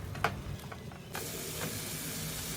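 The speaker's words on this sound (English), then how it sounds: "on medium to high flame we will fry the tomato puree well until oil starts to separate" Tomato puree frying in oil over a medium-high flame, a steady broad hiss that jumps louder partway through and then holds constant, close and alone.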